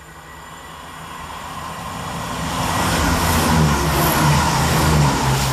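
A passenger train, unit 168005, rumbles into Olton railway station and grows steadily louder, a broad low roar of wheels and engine with faint squeals near the end.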